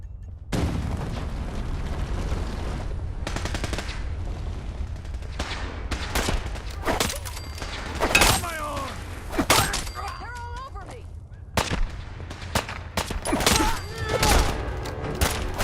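Gunfire from the video game Fallout 4: repeated bursts of shots and booms in a chaotic firefight, loud and close, with shouting voices and groans mixed in throughout.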